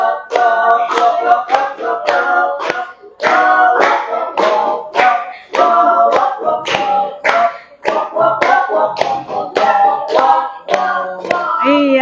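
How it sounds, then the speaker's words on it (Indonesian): A group of participants in a classroom learning session claps in rhythmic, loud unison bursts, repeating patterned rounds of hand claps with brief pauses between them. "kita tepuk tangan buat semuanya"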